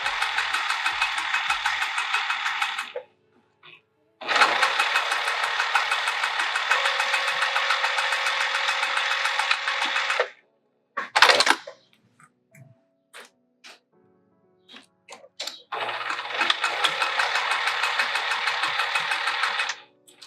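A sewing machine stitching the seam of a Barbados bag, running in three long steady bursts of loud mechanical whirring separated by pauses and a few short clicks.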